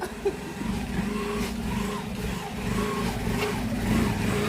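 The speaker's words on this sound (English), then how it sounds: "That's the reverse gear." A car engine runs steadily while the vehicle drives in reverse gear, a continuous, fairly loud drone with a slight rise in level toward the end.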